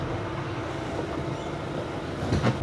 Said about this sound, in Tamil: start, okay okay, boat start ஆயிடுச்சு